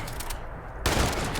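A shotgun blast in the video game Fallout 76, a sudden loud burst after a moment of quieter game ambience, with the roar holding and ringing out afterward.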